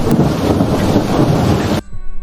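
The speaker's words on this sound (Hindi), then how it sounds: "बहुत तेज हवा चल रही है।" Strong, steady wind roars through a cartoon scene, a dense broadband rush that holds loud for nearly two seconds before cutting off abruptly into near quiet.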